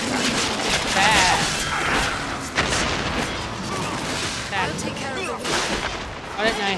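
Chaotic explosions and crashing impacts from the Dragon's Dogma game during a siege battle, with repeated booms, clattering combat noise and swooshing effects layered over one another at high volume.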